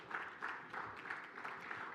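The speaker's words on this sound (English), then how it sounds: "A round of applause for" A room of attendees at a San Diego cybersecurity conference CISO panel applauds TJ Lingenfelter, TaylorMade's information security head, with a fairly faint, steady wash of many hands clapping that continues evenly throughout.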